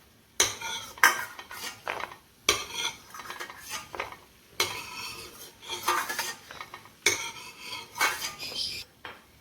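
A metal spoon scrapes roasted cashews and almonds from a pan onto a plate, making repeated clattering scrapes, clinks and rattles in uneven bursts. The sound is close, with a faint sizzle underneath and no speech.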